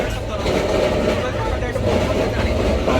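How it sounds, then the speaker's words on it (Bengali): The air conditioning on the Howrah–Guwahati Saraighat Express runs with a loud, steady, broadband roar while the train moves, continuous and close, with a faint rumble of the rail carriage underneath. "এরকম আওয়াজ হচ্ছে এসির থেকে"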